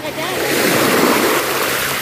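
Ocean surf washes steadily onto a beach, a dense continuous rush of breaking waves heard close and loud with no pauses.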